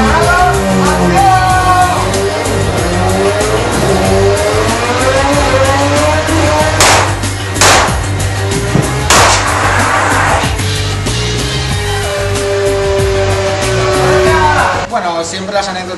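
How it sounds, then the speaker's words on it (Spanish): A Mercedes skids through a narrow street during a film stunt chase, engine revving with repeated tire squeals and sharp bursts, shouting and talk mixed in over a continuous loud roar. "el Mercedes derrapando, entrando por una calle estrecha"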